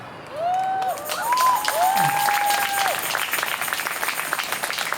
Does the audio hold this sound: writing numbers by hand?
no